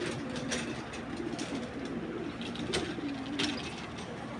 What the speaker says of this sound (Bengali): একেবারে পুরা অরিজিনাল ডালিম চোখের একটা কবুতর।